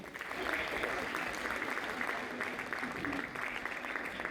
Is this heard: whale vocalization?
no